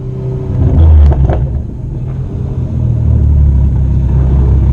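A Toyota Supra time attack race car accelerates on track, its engine a loud, steady low rumble that swells near the start and holds strong throughout.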